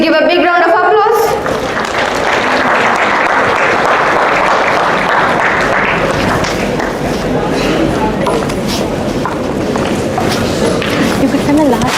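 Audience applause at a live TEDx event, a loud and sustained wash of clapping that fills the whole stretch after a brief voice at the start. Faint voices and crowd murmur sit underneath.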